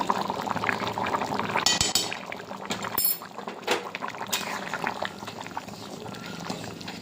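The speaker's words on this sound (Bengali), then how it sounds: "মাংসের পাতলা ঝোলটা হয়ে এসছে।" Thin chicken curry broth simmers and bubbles in a pan, a steady close liquid bubbling with a few sharper splashes and clinks, no talking.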